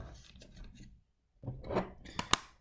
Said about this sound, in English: I guess there is some noisy sound when I pull the keyboard from the laptop